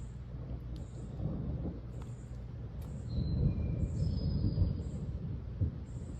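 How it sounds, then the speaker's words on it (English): Distant thunder rolls low and rumbling outdoors, swelling midway and fading, with faint bird chirps and a few light knocks nearby. "That was thunder."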